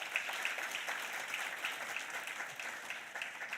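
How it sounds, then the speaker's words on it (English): Audience at a taxpayer appreciation awards ceremony in Swakopmund, Namibia, clapping in steady, even applause, faint and distant, with no voices heard. "Please, let's give him a very well round of applause."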